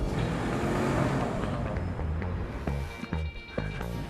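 A Nissan Altima with a VC turbo engine drives in a TV commercial, a loud dense engine and road rush under music with a few sharp transient hits, close and continuous.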